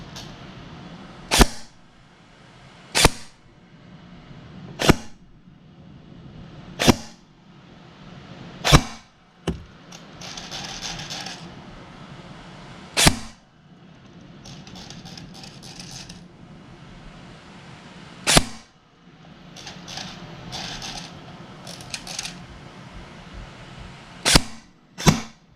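A Helios Knights Armament SR-16E airsoft rifle fires single shots on semi-auto, about a dozen sharp, loud cracks at irregular intervals, with quieter mechanical rattling and clicking between them.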